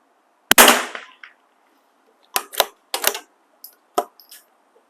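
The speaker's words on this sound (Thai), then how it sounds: "สองนัดแล้วกันเนาะ ยิงเช็คกลุ่มนะคะ" A rifle fitted with a Vector Optics Matiz 3-9x40 scope is test-fired to check shot grouping. One loud, sharp shot rings out with a lingering decay, followed by several shorter, quieter cracks spaced apart. No one speaks.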